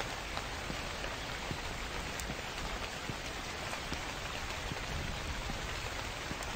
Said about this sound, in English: this is an actual rain